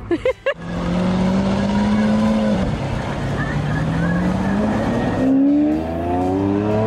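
A supercar's engine drones loudly and close while driving, its note climbing in pitch as it accelerates and shifts. A few sharp knocks come just before it.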